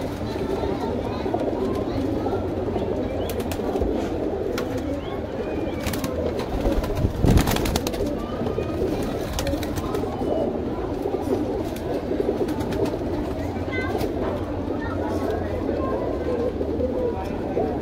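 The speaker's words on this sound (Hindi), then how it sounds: "टोटल सहारनपुरी कबूतर है भाई ये" A flock of Saharanpuri pigeons kept at a home loft in Mumbai coo steadily in low, throaty, rolling calls, while someone talks over them and other birds chirp faintly.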